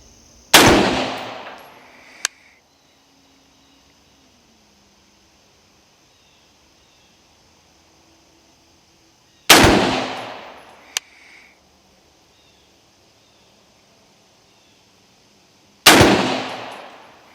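Three loud, sharp rifle shots fired from an Aero Precision upper with Federal Gold Medal Match ammunition, each separated by several seconds of quiet, each with a short ringing tail and a faint metallic ping shortly after the first two.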